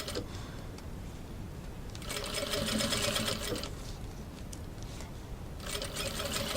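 A sewing machine stitching bias binding onto a shoulder bag runs in a steady fast mechanical chatter, fairly quiet and close, with bursts of faster stitching and short slower stretches between them.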